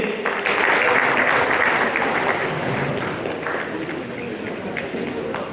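A crowd at an honour ceremony in Kanpur claps loudly and continuously, a thick, steady wash of applause that gradually softens toward the end.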